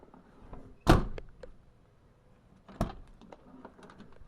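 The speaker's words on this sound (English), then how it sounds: "Let's see if the door opens." A 1994 Nissan Pathfinder door unlatches with a sharp clunk after an outside door handle repair, followed a couple of seconds later by a second thunk and faint clicks in a quiet space.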